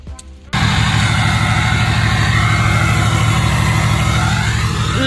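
A Ford Ranger with a 4.0 engine and a straight-pipe exhaust cranks briefly, then fires up into a loud, steady, throbbing idle close by.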